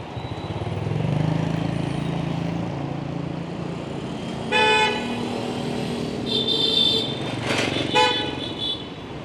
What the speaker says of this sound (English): Just go through the intersection, beep and go.